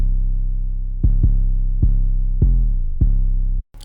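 Clean, undistorted 808 bass from FL Studio playing a short pattern of about six deep sustained notes with pitch glides, loud and alone, ending in a brief gap of silence.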